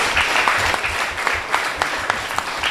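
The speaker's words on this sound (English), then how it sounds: "can I ask those of you who applauded to applaud again for those who did not?" Audience applause at a primary schools Kweyol spelling bee competition: a dense, steady wash of clapping from a crowd throughout, without speech.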